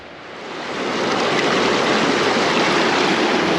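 A glacier-fed stream in the Canadian outdoors flowing loud and close, a broad steady rush of water that swells over the first second and then holds constant, with no voices.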